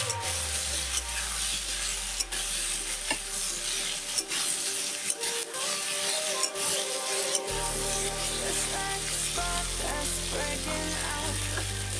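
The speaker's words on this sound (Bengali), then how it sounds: "হলুদটা দিয়ে আরেকটু নেড়ে দেবো।" Turmeric being stirred into a sizzling curry of drumsticks and bitter gourd, with a steady frying hiss and scraping stir strokes throughout, close and continuous with no talking.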